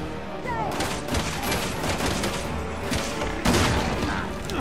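Shotgun fire in the video game Resident Evil 6, a run of heavy booming shots in quick succession amid game action, with a stronger blast near the end.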